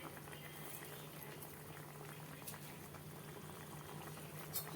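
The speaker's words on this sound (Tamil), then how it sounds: "இப்போ பார்த்தீங்கன்னா கொதி வந்துருச்சு" Elephant foot yam tamarind curry bubbling in a pot, a faint steady simmer of small pops and gurgles continuing throughout with low kitchen background.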